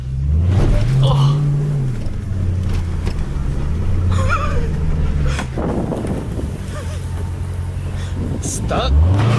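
A Dodge Hellcat car's engine revs loudly in long rising and falling surges as it slides, with wind noise throughout, a few thumps and bangs, and people talking over it.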